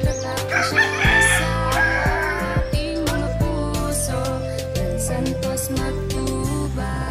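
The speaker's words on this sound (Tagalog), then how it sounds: "Maraming manok." Roosters crow repeatedly and loudly over a busy background of clucking hens and other farmyard noise, several birds calling at once.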